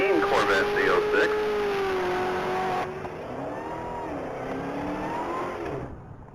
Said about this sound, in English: taking off the line is vehicle 1027. That's Tony Lewis in a black 2015 Corvette Z06